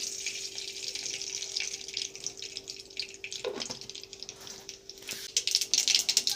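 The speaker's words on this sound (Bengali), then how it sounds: "আমার তেল গরম হয়ে গেছে, আমি এর মধ্যে সর্ষা সম্বরা দিয়ে দিলাম" Mustard seeds are added to hot oil as a tempering for a sour spinach chutney. A soft, steady hiss runs throughout, with scattered small crackles that grow a little busier toward the end. No voices.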